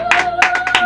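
A church congregation at worship claps hands in a quick, uneven burst of several loud, close claps over a steady sustained tone.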